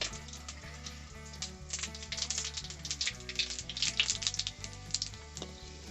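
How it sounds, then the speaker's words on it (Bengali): Dry chillies, cumin, bay leaf and whole garam masala crackle and sizzle in hot oil for a chicken curry, a dense continuous frying hiss with popping bursts over a low background hum, no voices. "এবার আমরা ফোড়নে দিয়ে দেবো শুকনো লঙ্কা, জিরে, তেজপাতা আর একটু গোটা গরম মশলা।"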